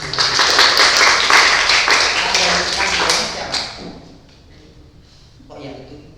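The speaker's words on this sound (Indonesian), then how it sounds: "Tepuk tangan untuk Mas Jun." A church Christmas youth service crowd claps for Mas Jun, several seconds of dense, loud applause that tapers away, followed by quieter sounds and a voice.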